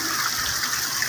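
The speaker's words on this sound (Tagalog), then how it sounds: "dumadaloy na yung tubig" Water gushing steadily from a new motor-driven water pump into a fish pond, a close, continuous rushing splash.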